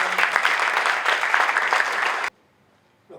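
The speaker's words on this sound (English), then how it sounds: "Could we have a huge round of applause for him?" Audience applause for architect Christopher Benninger at a design debate in Pune, a dense continuous clapping burst lasting about two seconds, then cutting off abruptly into near silence.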